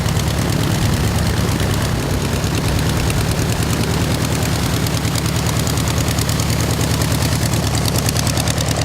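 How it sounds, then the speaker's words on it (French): Propeller airplane designed by Burt Rutan, an economical design from the early 1970s, running steadily at an air show meeting in Brittany, a loud continuous engine drone with a rapid pulsing prop beat and no voices. "L'avion a été conçu par Burt Rutan, un ingénieur de la NASA"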